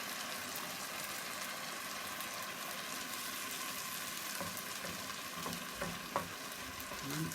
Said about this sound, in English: I'm literally just stirring it round. I've got a fairly hot pan,